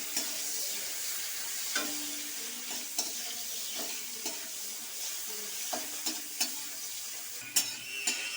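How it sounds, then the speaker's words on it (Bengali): Chopped vegetables for restaurant-style veg fried rice sizzle steadily in a pan, with frequent stirring scrapes and light utensil clicks against the metal; no one speaks. "এটা বেশিক্ষণ ভাজতে লাগে না"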